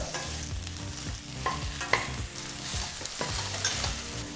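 Okra fries in a little oil in a pan while being stirred, with a steady sizzle under repeated scraping strokes of the spatula, close and fairly loud, and no voices.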